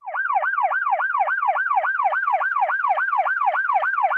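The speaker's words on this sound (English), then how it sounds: "That's the siren." A wailing siren cycles rapidly up and down in pitch, loud and steady, sounding alone from start to finish.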